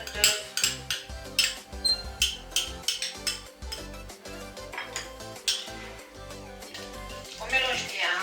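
Egg yolks being whisked for a lemon cream, with a steady rhythm of quick metal utensil clinks against a bowl, close and moderately loud, under music.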